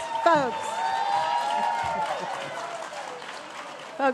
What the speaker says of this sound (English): let's hold the applause until the end of the program